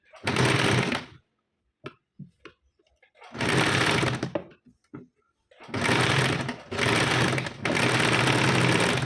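A sewing machine joins a sleeve to a size 38 four-tuck blouse with a half-inch seam, running in four loud, rapid, whirring bursts separated by quiet gaps with small handling clicks.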